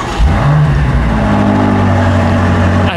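A BMW M5 engine rises into a quick rev and then settles into a smooth, loud idle rumble as the car rolls onto the delivery floor inside BMW Welt.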